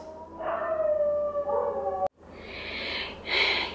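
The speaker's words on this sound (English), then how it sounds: "Can you hear my dogs?" Dogs howl in long wavering tones, one voice gliding up and down, then after a brief break several higher howls join in together, fairly close.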